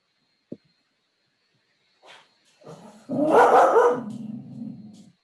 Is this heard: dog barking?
yes